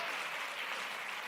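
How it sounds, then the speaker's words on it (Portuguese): A church congregation applauding during a sermon, a brief, even wash of many hands clapping at moderate volume with no distinct voices over it. "Aplauda o Senhor."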